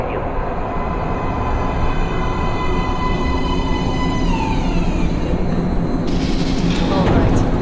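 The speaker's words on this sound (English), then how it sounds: "Train coming in." A train in the Metro: Last Light video game rolls into an underground platform with a loud, continuous rumble, with high metallic screeching tones rising and shifting as it arrives.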